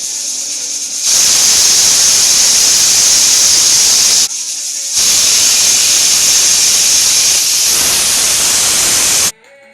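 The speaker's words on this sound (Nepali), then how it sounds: "2 सिटी जति लाग्न दिन्छु म" Steam hissing hard from a pressure cooker whistle while rajma boils, a loud, steady rush of noise in two long bursts separated by a short break.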